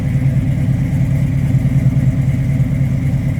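Rumbling V8 of a 1972 Chevrolet Camaro SS idling steadily at the rear of the car, a deep, loud, even burble with no talk over it.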